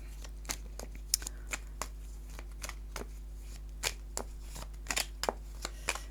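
Tarot cards being shuffled and drawn, a series of crisp close flicks and snaps in irregular bursts over a low steady hum, no voices.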